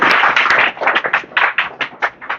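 A small classroom group claps for a student, with a burst of quick, uneven handclaps close by that thin into scattered separate claps over two seconds.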